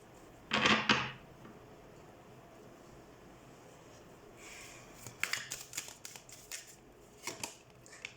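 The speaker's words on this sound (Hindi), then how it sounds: "सबसे पहले हम कार्ड शफल कर लेते हैं" Tarot cards are shuffled by hand in short, faint riffling bursts, one early and a cluster toward the end, in an otherwise quiet room.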